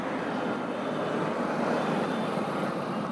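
A Honda SP 125 BS6 motorcycle, 2022 model, runs steadily in third gear, giving a continuous broadband engine and wind roar at close range, with no pauses.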